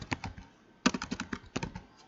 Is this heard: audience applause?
no